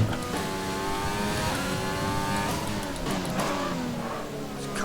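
F1 2020 race car engine roaring continuously on track, with gear-shift pitch sweeps rising and falling as the car is pushed hard through corners, loud and steady throughout.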